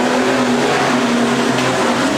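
Street stock race cars roar steadily around a track during a heat race with eight cars left, a loud, continuous engine drone with no breaks.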